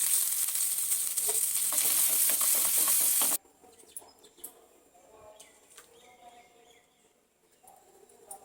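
Spices tempering in hot oil for a peanut chutney, a loud, dense sizzle and crackle for about three seconds, then cutting off abruptly to quiet kitchen clatter and faint chirps.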